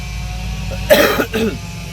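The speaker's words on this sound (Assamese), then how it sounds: "কাহ হৈ আছে যিহেতু বেয়া লাগিছে" A single cough bursts out in a quiet room, followed moments later by a second, shorter cough.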